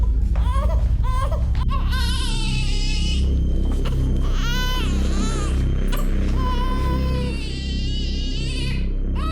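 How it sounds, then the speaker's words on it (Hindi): A baby cries loudly and persistently in repeated wailing bursts, close by, with a low rumble underneath and no talking. "घर में पिछले 4 घंटे से बच्चे की रोने की आवाज आ रही है"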